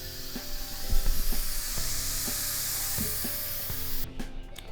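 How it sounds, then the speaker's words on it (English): Steam vents from an Instant Pot pressure cooker holding pork ribs as its pressure is released: a steady, loud broadband hiss with faint clattering underneath that cuts off abruptly near the end. "the pressure has been released"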